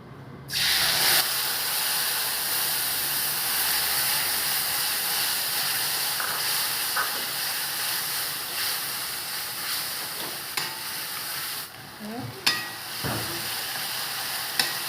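A ground semur spice paste of shallots, garlic, bay leaf, candlenut, clove and cinnamon hits a frying pan and sizzles loudly and steadily for a long stretch, with a few stirring scrapes and spits near the end.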